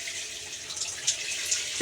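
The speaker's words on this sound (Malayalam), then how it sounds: "ഈ ടാപ്പ് ഒന്നിങ്ങനെ മീതോട്ടേക്ക് ആക്കിയിട്ടുണ്ടെങ്കിൽ ചൂടുവെള്ളം വരും" A bathroom tap on a cruise ship runs water steadily into the basin, a close, continuous hiss with a couple of small splashes and no talk.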